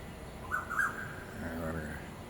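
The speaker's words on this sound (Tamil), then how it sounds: "அங்கே பாருங்க, நிறையா குயில்கள் நண்பர்களே." Koel cuckoos call from trees outdoors, a few faint whistled notes rising and repeating at a distance over a steady background hiss.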